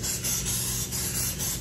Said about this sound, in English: I just use like the spray can in the morning